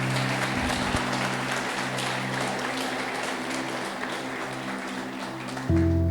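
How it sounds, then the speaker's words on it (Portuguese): A church congregation clapping together at moderate volume, a continuous patter of applause over a low steady hum, with a slight rise in level at the very end. "Aplauda bem forte o nome de Jesus."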